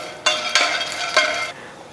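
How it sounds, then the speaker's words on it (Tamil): Pumpkin seeds roast in a dry pan, stirred in three or four brisk scraping bursts over a low, crackling sizzle that fades as the stirring stops. "பூசணி விதையை வந்து நான் வறுக்கிறப்போ வந்து நல்லா படப்படன்னு பொரியுங்க, நல்லா சவுண்டு கேட்கும்"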